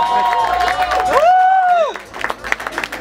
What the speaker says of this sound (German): Gibt mal einen dicken Applaus, Leute!